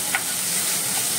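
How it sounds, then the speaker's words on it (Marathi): Onion frying in a pan with a tablespoon of oil, a steady close hiss of sizzling that runs through the whole short stretch with no voices. "आता हांव एड करता हो कांदो ताका भाजून घेता"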